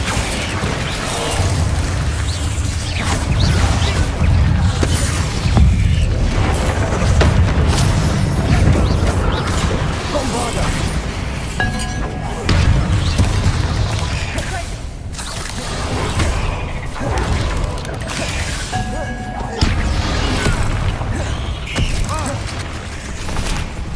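Bombarda explosion spells go off in Hogwarts Legacy, loud booming blasts repeating amid a dense wash of clattering, creaking game effects.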